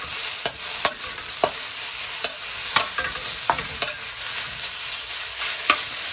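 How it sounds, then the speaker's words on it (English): Courgette, aubergine and mushrooms frying in oil in a pan over high heat: a steady sizzle runs throughout, with regular scraping clicks from stirring about once a second. "So now let's just add this into the mixture and let's fry it up."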